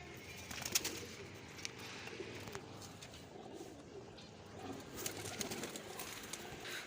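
Pigeons, including a white one on a rooftop, coo softly in the background amid faint outdoor ambience, with a few scattered clicks and rustles.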